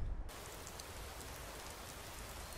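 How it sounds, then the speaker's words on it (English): Steady rain falling in a Skyrim game world by a lake, a dense even hiss of raindrops on surfaces that continues without a break at a low, soft level. "No problem. We'll deal with the rain."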